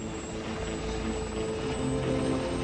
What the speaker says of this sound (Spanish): Diseñado como helicóptero ligero antisubmarino, el Lynx, gracias a sus misiles y Skua, tiene la capacidad de atacar buques